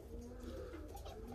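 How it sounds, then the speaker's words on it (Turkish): Ornamental fancy pigeons coo in a steady low murmur, a dense flock-like cooing continuing throughout at moderate level with no talk. "Buradaki benim işte süs kuşları."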